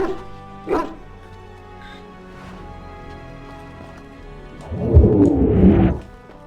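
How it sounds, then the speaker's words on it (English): Dog in the video game Dragon Age: Origins: a single bark early on, then a louder burst of several excited barks and whimpers near the end over a quiet game backdrop. "That is a wonderful dog."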